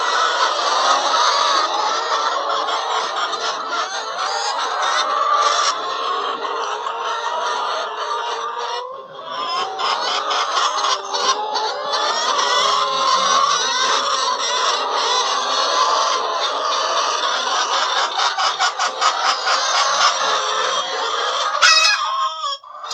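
Laying hens and Faomi chickens on a small farm cluck continuously, many birds overlapping in a busy chorus close by, with a few sharper calls and a possible crow near the end.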